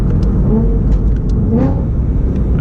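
A modified 2008 BMW M3 engine hums and rumbles steadily from inside the cabin while driving, with a low drone and slight rises in revs, no talking.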